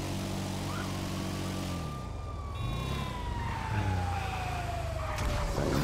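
A fire truck siren from a video game wails in a long descending sweep, loud and steady, joined by engine rumble and brief honking tones near the end.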